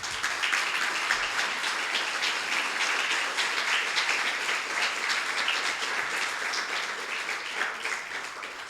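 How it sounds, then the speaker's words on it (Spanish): A church congregation applauding in praise during a Spanish-language sermon on generosity, a sustained even roar of many hands that tapers slightly toward the end. "Denle un aplauso al Señor"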